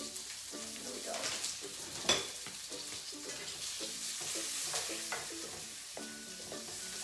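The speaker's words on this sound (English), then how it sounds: "sauteing the onion rings, the onion in here" Sliced onion rings sauteing in a pan for a kale dish, a soft steady sizzle with faint stirring scrapes and clinks, quiet and close.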